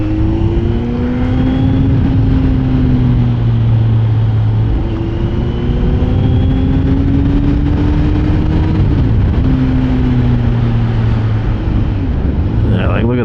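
A 2024 Kawasaki Z900 motorcycle engine drones loudly and steadily as it is ridden slowly along a rough, pothole-strewn road, its pitch rising and falling with the throttle, with strong wind rumble throughout.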